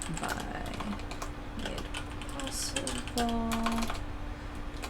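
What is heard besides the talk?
typing on a computer keyboard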